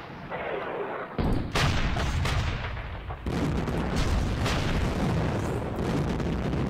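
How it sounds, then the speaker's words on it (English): Artillery strikes in the wargame Panzer Battles Kursk land as loud, booming blasts and rumbling explosions that continue without a break, with overlapping impacts. "We got artillery striking you down."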